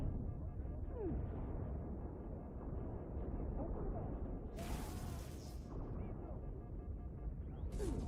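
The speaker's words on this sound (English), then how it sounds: "all that explosion over there didn't get any of them" Explosions in the Xbox 360 game Halo: Reach, on the Long Night of Solace campaign level, form a continuous low, rumbling roar with occasional sharper bursts of noise.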